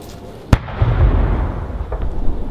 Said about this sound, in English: The Presidential Salute Battery fires 17 rounds to signify a four-star general.